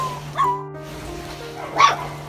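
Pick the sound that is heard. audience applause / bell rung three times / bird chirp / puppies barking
puppies barking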